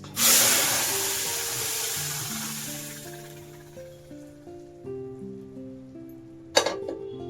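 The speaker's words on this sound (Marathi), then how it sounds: "छान फोडणी बसली" Spice tempering for homemade sambar sizzles loudly in a hot pan, a bright hiss that starts strong and slowly fades, with soft stirring knocks and one sharp clatter near the end, no voices.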